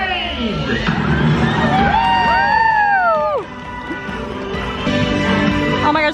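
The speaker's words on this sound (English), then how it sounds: "it's like the whole crowd erupted when this went off" A crowd at Magic Kingdom's Festival of Fantasy Parade at Disney World cheers and whoops loudly alongside the parade music, with sweeping tonal sounds rising and falling over a dense, sustained roar of voices.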